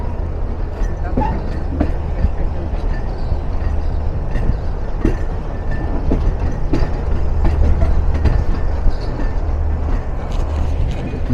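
Nilsagar Express train pulling out of platform 5 at Dhaka station, heard from on board as a loud, continuous rumble with rhythmic clicking and clattering of wheels and couplings.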